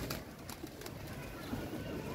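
Soft pigeon cooing, low and faint, under a dull background hum.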